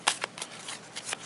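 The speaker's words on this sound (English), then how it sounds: "Second, you shuffle your deck." A deck of Luck & Logic trading cards is shuffled by hand, a few quick soft riffling bursts and taps, close and fairly quiet, with no talking.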